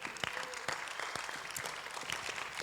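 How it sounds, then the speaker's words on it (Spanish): A church congregation claps loudly together in praise, a dense, steady burst of applause close by with no speech over it. "Den un aplauso fuerte al Señor."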